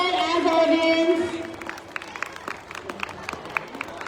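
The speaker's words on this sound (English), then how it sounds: "Give them a huge round of applause." After a brief voice at the start, scattered audience clapping follows at a school event, light and uneven with distinct individual claps rather than a full ovation.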